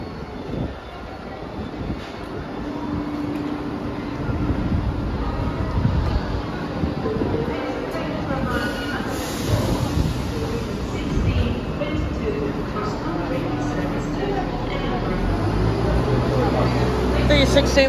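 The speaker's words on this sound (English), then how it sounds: "Northern train service from Sheffield to Scarborough." A Northern train on the Sheffield to Scarborough service at Doncaster station gives a steady, loud rumble with a low engine drone, backed by busy platform noise and faint voices throughout.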